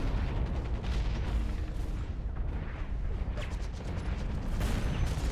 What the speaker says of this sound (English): We're taking fire. Mad fire.